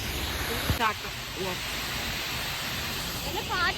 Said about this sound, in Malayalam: വെള്ളം ഇവിടെ നിന്ന് വരെ തെറിക്കുന്നുണ്ട്.